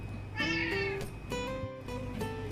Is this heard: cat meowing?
yes